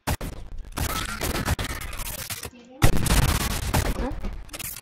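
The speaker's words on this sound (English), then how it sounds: "Let's go with the rocket launcher." Rocket launcher firing in the online egg-themed shooter game Shell Shockers, heard as sharp explosive bursts that come loud and close, with one break of near silence before the firing resumes.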